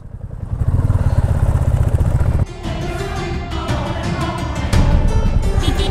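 A motorcycle climbs a steep, rough mountain road toward Borong and Ralong Monastery near Pelling. Its mid-pitched engine runs loud and close throughout, with a brief dip in the middle before it pulls hard again.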